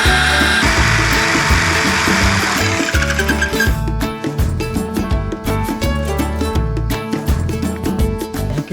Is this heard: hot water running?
no